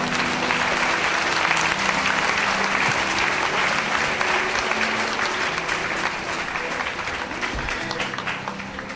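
A church congregation claps together in sustained, dense applause, loud and steady for the whole stretch before thinning slightly toward the end, with no voices standing out.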